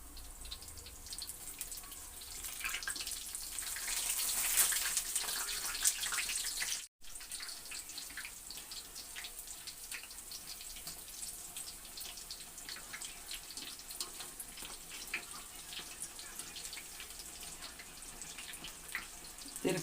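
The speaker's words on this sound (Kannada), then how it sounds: "ಬಜ್ಜಿ ಬೇಯ್ತಾಯಿದೆ." Chilli bajji fries in hot oil beside a pan of masala chitranna, with a steady close sizzle and crackle of bubbling oil throughout and one brief dropout partway through.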